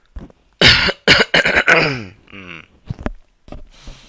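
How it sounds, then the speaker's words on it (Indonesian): A person coughs several times in quick bursts, close and loud, followed by a few softer throat-clearing sounds and short pauses. "sekarang saya batuk dulu"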